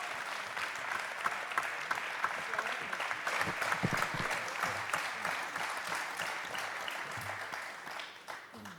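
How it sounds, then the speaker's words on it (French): A crowd at a Paris press conference for an athletics meeting applauds four French champions: continuous, fairly distant clapping with scattered individual claps standing out, fading slightly at the end. "tonnerre d'applaudissements pour ces 4 champions français qui nous ont tant fait vibrer"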